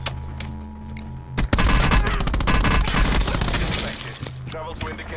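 A loud, dense burst of rapid gunfire in the Call of Duty: Black Ops 4 Blackout mode lasts a few seconds, then trails off, with voices talking around it.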